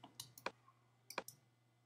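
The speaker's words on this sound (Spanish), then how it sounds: "Añadimos más puntos con clics de ratón." A computer mouse clicks sharply several times at close range in a quiet room, in uneven pairs and singles, while points are added to a selection in Photoshop; a faint steady hum runs underneath.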